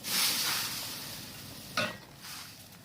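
Straw mushrooms drop into a simmering tom yum kung pot already holding lime juice and tomatoes, giving a single close splashing knock within a steady background hiss, with no talking.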